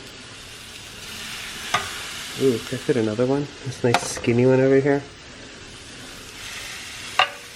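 Chicken sizzles steadily on a hot grill, a constant crackling hiss close by, while someone talks briefly over it.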